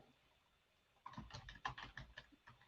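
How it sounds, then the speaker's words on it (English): Someone types on a computer keyboard in a quick, uneven run of close keystrokes. The clicking starts after a second of quiet room hush and stays fairly soft, with no talking. "while you're up there typing"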